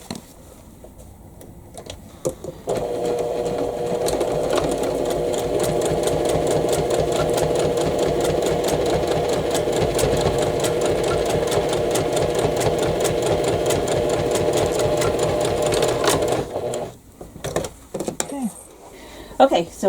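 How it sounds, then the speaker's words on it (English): A sewing machine runs continuously for about fourteen seconds, sewing quilt block pieces together for a Cathedral Window block, a steady close rattling whir with soft handling sounds before and after. "that's where I'm going to sew"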